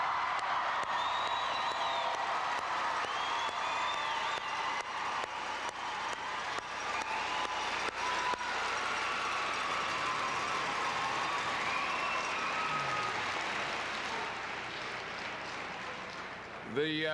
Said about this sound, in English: give those guys another round of applause,